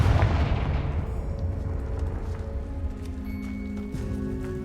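A Confringo fire spell is cast in Hogwarts Legacy, a loud blast at the start that fades into a lingering rumble and ringing tones over several seconds.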